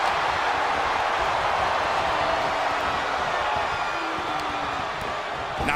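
A raucous arena crowd at a SmackDown wrestling match, a dense steady roar of cheering that holds throughout, loud and unbroken, with a commentator's voice faintly underneath.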